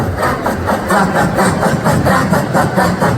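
A tractor engine runs loud and close with a steady, pulsing diesel rumble at idle.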